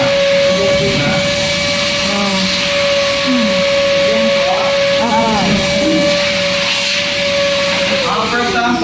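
A vacuum cleaner runs steadily with a constant whine and airy hiss, loud and close throughout, while a voice talks over it.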